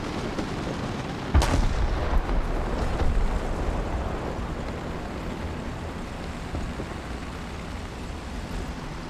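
A single booming tank cannon shot goes off in a War Thunder battle with American tanks, a sharp loud report followed by a rumbling tail and a fainter distant shot, over a steady low engine drone without talk.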